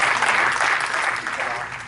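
Audience applause at an Urdu literary tribute event, a loud, dense burst of clapping that tapers slightly, with a voice speaking over it.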